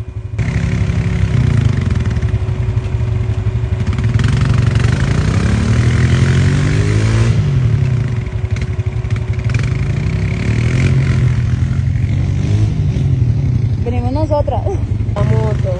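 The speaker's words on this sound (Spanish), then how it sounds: "Otra moto," A motorcycle engine runs loud and steady throughout on a quad-bike tour, with a low mid-pitched drone that holds near and constant, while people talk over it.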